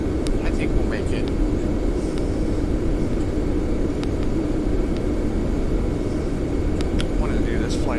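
Airliner cabin on a flight from Miami to Toronto, a steady loud low engine drone filling the background with faint clicks and small sounds over it.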